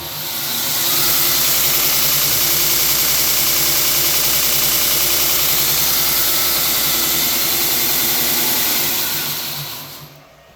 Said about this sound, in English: Now there is some motor noise on that, the fan.